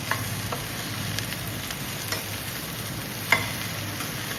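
Onions cut into quarters and separated into pieces sizzle steadily in a pan while being stirred, with a continuous frying hiss and faint scraping taps, close and without talk.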